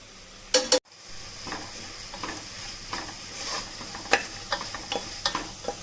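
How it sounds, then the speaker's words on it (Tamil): Freshly ground masala with curry leaves sautéing in a pan for Chettinad chicken gravy: a continuous close sizzle, with two sharp knocks near the start and then irregular light stirring scrapes. "மசாலா சேர்த்து நல்லா ரா ஸ்மெல் போகிற அளவுக்கு வதக்கியாச்சு"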